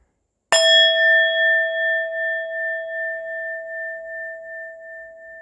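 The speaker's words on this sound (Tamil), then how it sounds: "நான் தட்டினோடனே அந்த பெல் சவுண்டு மாதிரி தான் கேட்கும், நல்லா உத்து கவனிச்சிங்கன்னா ஓம்னு போய் முடியும்" A singing bowl struck once with a wooden stick rings out after a short silence with a bright metallic strike, then a long, pure, wavering tone that slowly fades.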